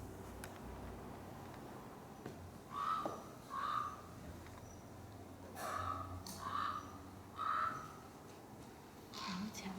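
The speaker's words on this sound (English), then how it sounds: "some raven vocalizations on his phone" A series of deep, croaking raven calls played back through a phone speaker, coming in pairs with pauses, faint over a low background rumble.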